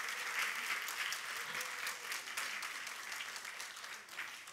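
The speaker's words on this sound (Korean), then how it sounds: "박수 한번 주세요." Audience applause fills a lecture hall at a Korean Christian talk, a dense steady wash of many hands clapping for several seconds, fairly loud and continuous, tapering slightly at the end.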